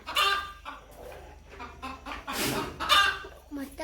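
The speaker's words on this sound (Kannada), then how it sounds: "4 ಕಾವಿ ಕೂತಿದ್ದಾವೆ ನಾ ಕೋಳಿ," Brooding hens cluck in short, irregular bursts, close by and fairly loud, with a few louder squawking calls among them.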